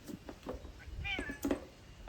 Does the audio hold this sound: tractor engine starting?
no